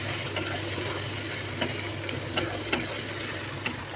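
Spice masala with hot chili powder being stir-fried in a pan, giving a low steady sizzle with a faint background hum and a few soft spatula scrapes spaced out, no voices.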